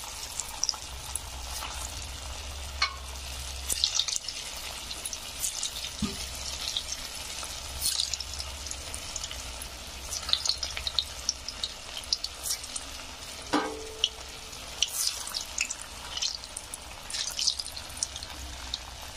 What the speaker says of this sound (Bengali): এইভাবে এটাও আমি ভেজে তুলে নেবো একইভাবে